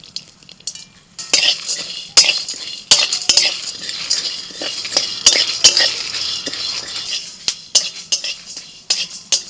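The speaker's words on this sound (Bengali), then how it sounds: "ভাজা মশলাগুলো হালকা করে ভেজে নিতে হবে" Whole spices, including dried red chillies, chana dal, melon seeds, white sesame, coriander seeds and black peppercorns, are dry-roasted in a dry wok: loud, irregular metal scrapes and clinks of a spatula stirring over a faint sizzle.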